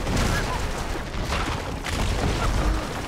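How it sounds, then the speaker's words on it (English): Grenade blasts and gunfire rumble through a firefight in Uncharted 3: Drake's Deception, in a dense, continuous roar of booms and shots with no clear pauses. "just throw a grenade again"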